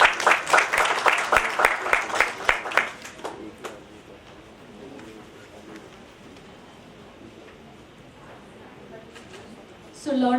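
Audience applause at a book launch event, a burst of clapping from a gathered crowd that fades out over a few seconds, leaving quiet room tone before a voice begins at the end.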